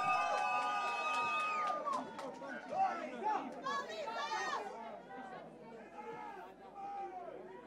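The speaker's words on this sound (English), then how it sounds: "Let's make some noise for both these fighters, ladies and gentlemen. Come on, let's cheer them on." Crowd noise at a fight event, a dense wash of chatter and cheering voices filling the hall, with a sustained loud roar early that settles into steady murmuring and scattered shouts.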